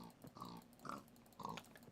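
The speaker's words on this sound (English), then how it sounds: "I'm beating up pigs again." Pigs squealing as they're struck in the blocky game No Place for Blocks, three sharp oinking grunts spaced across a couple of seconds, close and fairly quiet with no talk.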